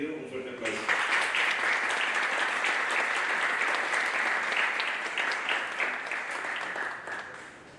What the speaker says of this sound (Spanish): al doctor Juan Felipe Herman Soto, a quien pido un fuerte aplauso.